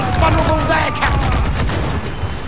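Cannon fire from sailing ships during a naval battle in Assassin's Creed IV Black Flag, a dense barrage of booming shots rolling together over continuous battle noise.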